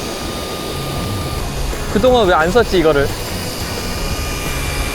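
A drone used for long-distance sea fishing with an electric reel hums steadily in the background as a loud, even engine-like drone, while someone speaks briefly over it in the middle.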